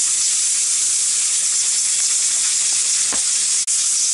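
Steam hisses steadily and loudly from a pressure cooker on a stovetop while chicken and dumplings cook, a continuous bright rush with one brief dropout near the end and no talk.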